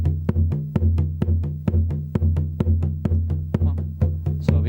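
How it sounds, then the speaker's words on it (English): Steady, even strokes on a bodhran frame drum, a booming low thud on each beat with the downstrokes audibly heavier than the softer upstrokes, played close up in a continuous rhythm. "very often you'll find all your downstrokes are louder than all your upstrokes"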